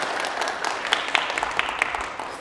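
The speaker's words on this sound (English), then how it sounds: "So if you want to give him a warm round of applause here, we'd appreciate it." Audience in a ballroom at the SCaLE 22x conference gives a warm round of applause to welcome a speaker, a steady patter of clapping with a few sharper claps poking through.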